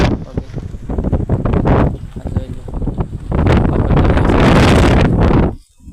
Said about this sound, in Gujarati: અત્યારે અહીં પવન બહુ ફૂલ છે